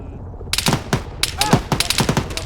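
Rapid machine gun bursts crack out during military platoon training, irregular volleys of close, sharp shots with some more distant fire, and voices faintly underneath.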